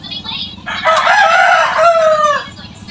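A rooster crows once, loud and close, a rising strained call that holds and then trails off, with a short cluck before it.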